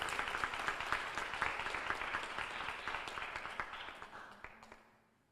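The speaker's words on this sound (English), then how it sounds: "let's give a round of applause for Miss Grady" Audience applause for a teacher at a Teacher of the Year award presentation, steady dense clapping from a crowd that holds for several seconds and then tapers off.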